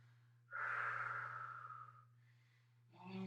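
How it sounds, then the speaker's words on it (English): Deep breathing in through the nose and out through the mouth during yoga-inspired stretching, one long close airy inhale fading out, followed by the start of a second breath, with a low steady hum underneath. "getting those deep breaths in through the nose"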